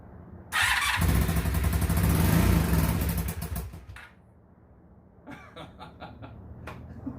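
The engine of a 2002 Honda Magna VF750C motorcycle cranks and starts with a loud, close roar lasting a few seconds, then drops to a quieter idle with occasional light revs and a soft laugh nearby.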